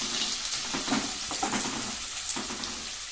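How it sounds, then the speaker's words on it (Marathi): Finely chopped onion tipped into hot oil with a bay leaf, giving a soft sizzle broken by a few light scrapes and taps of a spoon in the pan, close but fairly quiet. "हे बघा एक चिरलेला कांदा बारीक घालणार आहे मी"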